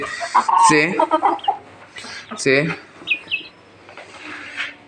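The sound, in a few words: naked neck chicken chicks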